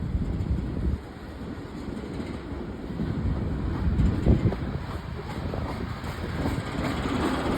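A Norfolk Southern freight train rolls past in Greensboro, a steady low rumble of wagons with wind buffeting the microphone, continuous and fairly close with no voices.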